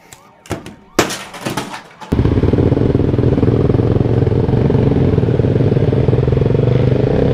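A motorcycle engine revs hard on a night ride through Bogor city streets, a loud sustained roar following a few sharp clattering bursts at the start.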